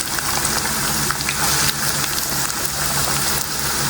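Chopped onions frying in hot oil for a village-style prawn curry, giving a steady, dense crackling sizzle that runs without pause across the whole stretch, fairly loud and close, with no voices over it.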